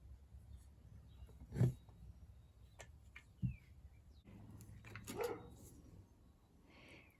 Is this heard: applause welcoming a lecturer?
no